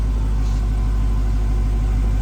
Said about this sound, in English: Love the exhaust note on this car.